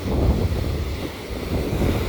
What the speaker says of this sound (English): you can hear that rushing as it hits some of that stone